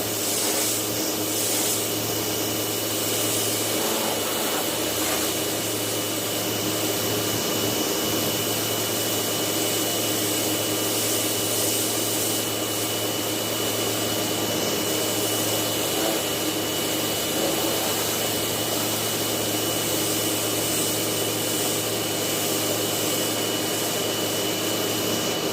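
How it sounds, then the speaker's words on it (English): A pressure washer spraying down a Land Rover, a loud, constant whining motor and hissing water jet running without a break. "I've got my washer and I'm going to"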